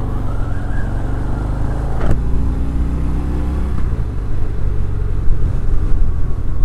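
A 2019 Harley-Davidson Fat Bob with a 114 engine rumbles loudly and steadily while riding, its engine note rising slightly toward the end.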